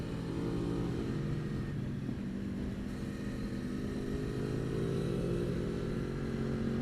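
A motorcycle runs on the Thunderhill race track, its engine a continuous droning hum that rises and falls gently in pitch as it rides, steady and moderately loud with no voices.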